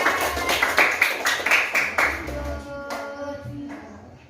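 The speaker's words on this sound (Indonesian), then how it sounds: "Kita tepuk tangan untuk Ibra" A short round of hand clapping is given for a child named Ibra: a run of quick, distinct claps that thins out and fades over about three seconds, with a faint tonal sound near the end.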